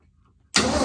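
The starter on a 1986 Ford F150, an O'Reilly replacement, suddenly cranks the engine in a loud, harsh burst after a moment of near silence, close and sustained to the end.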